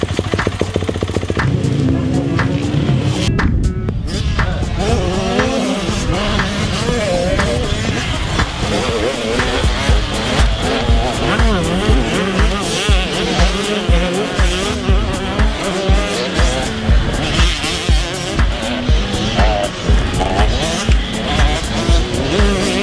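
A race car competing in a dusty race weekend, engine roaring loudly and continuously with revving, gear changes and tire squeal, close and dominant throughout.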